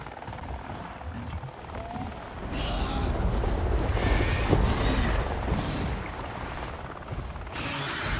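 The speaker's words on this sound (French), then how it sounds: "On dirait que j'entends un hélico moi." A helicopter whirs in an open-world video game, its rotor drone swelling loud and close midway amid a noisy background, with a couple of sharp higher cries breaking through.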